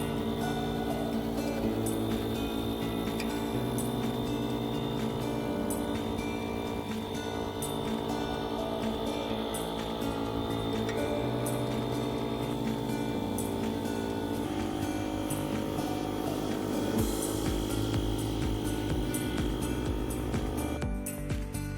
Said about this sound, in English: It takes about 15 minutes to pump up the paddleboard to 14 psi.